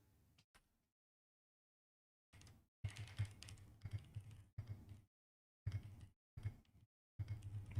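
Bursts of quiet typing on a computer keyboard, clusters of clicking keystrokes separated by short silences, close and alone with no talk.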